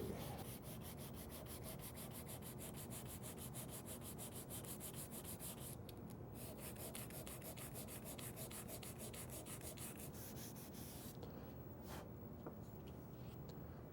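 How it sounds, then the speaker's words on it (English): Sandpaper rubbing back and forth over scorched wood to remove router burn marks, a fast steady rasping scrub that continues throughout, close and fairly quiet with no talk. "It won't take long to sand."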